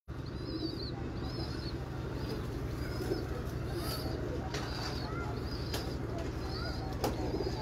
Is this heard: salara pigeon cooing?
yes